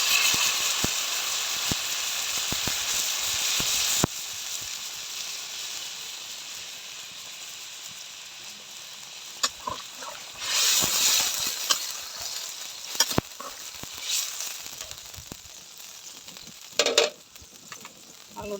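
Braised chicken in a pan sizzles loudly as broth goes in for a thin curry, a steady close hiss that eases after a few seconds, broken by scattered clinks and stirring scrapes.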